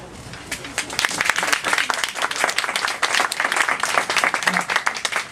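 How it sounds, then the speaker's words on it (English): An audience at a school board candidate forum claps after a candidate introduction, steady applause from a moderate-sized crowd in a hall, fairly close, with a few faint voices mixed in. "please clap at the end of the introduction"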